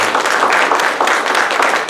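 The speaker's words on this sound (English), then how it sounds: "Please give a round of applause, everybody." An audience at a civic celebration honoring the oldest car club in Salinas applauds, steady close clapping throughout, no talk over it.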